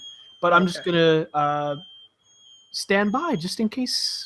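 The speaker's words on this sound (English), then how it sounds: "That's a fire alarm." A home fire alarm sounds while dinner cooks in the oven, a steady, faint high-pitched tone running continuously beneath nearby people talking.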